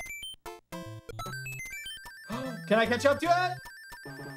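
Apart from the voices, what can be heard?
one-up sound effect from video game Super Mario Bros. 3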